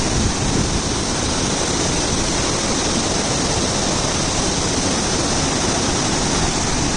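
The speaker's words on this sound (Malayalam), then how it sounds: "മാങ്കുളത്തുള്ള നക്ഷത്ര വെള്ളച്ചാട്ടം" The Nakshatra waterfall at Mankulam in Idukki roars as a dense, constant wash of falling water, loud and close and unchanging throughout, with no voices or other sounds.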